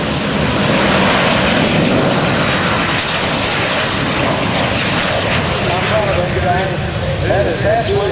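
A loud, continuous roar of jet engines at an air show, filling the air with steady, rushing noise that barely changes from start to finish.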